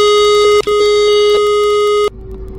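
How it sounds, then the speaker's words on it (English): Alarm blaring inside an office building in a video game, a loud steady electronic tone with a brief dropout near the start, then cutting off abruptly, leaving quiet background. "Stop the alarm."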